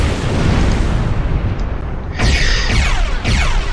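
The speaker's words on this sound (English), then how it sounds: "Press the spacebar to open fire on a target in range." Starship cannons firing in the space game Star Trek Online, loud booming bursts over a dense rumbling engine drone, with two sharp volleys arriving in the last half of the moment.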